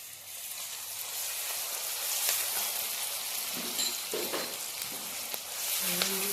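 Ginger paste sizzles in a pan while mutton pulusu is being cooked, a steady close frying hiss with occasional scrapes and taps of a spoon stirring, and no talk.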